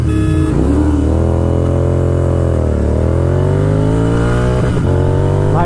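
An Apache RTR 310 and a Continental GT 650 race, their engines roaring loud and close. The revs climb steadily, dip briefly and then rise again in a continuous drone.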